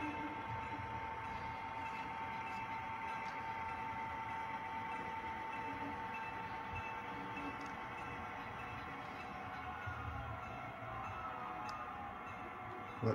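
A Lewis and Lower freight train at the Brunswick rail yard pulls out with a steady low engine rumble and rolling rail noise, a faint continuous tone above it, holding even and moderately near throughout.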